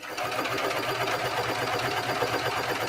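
A serger stitches the waistband seam of a pair of pajama pants, a fast continuous mechanical whir with a rapid even pulse, close up and loud throughout.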